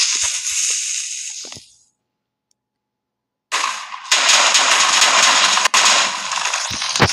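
TNT blowing up in a video game, a loud rough hiss and crackle that cuts to silence, then bursts back in as a dense, sustained crackling blast with sharp snaps near the end.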